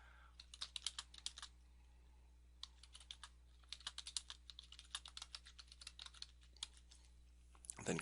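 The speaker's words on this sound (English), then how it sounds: "and then type in your site name, and then type in a description." Rapid runs of keystrokes on a computer keyboard while filling in WordPress site setup fields, clicks clustered in two bursts with a pause between, quiet and close over a low hum.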